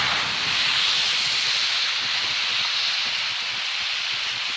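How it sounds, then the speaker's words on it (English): A heavy rainstorm pours down in a dense, unbroken roaring hiss, loud and close throughout with no pauses or voices. "It's a freaking rainstorm."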